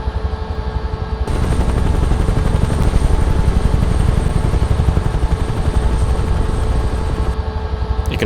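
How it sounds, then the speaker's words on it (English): A UH-1H Huey helicopter in a flight sim game gives a loud, continuous rhythmic rotor thump over a steady turbine roar. "This has to be my most favourite helicopter to fly to date in the sim"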